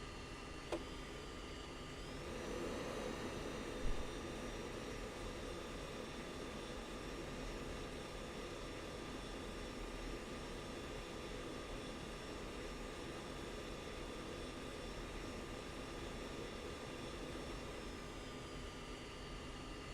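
A fighter jet takes off in the Falcon BMS flight simulator with a steady, loud engine roar and whine that holds evenly throughout, with no talking over it.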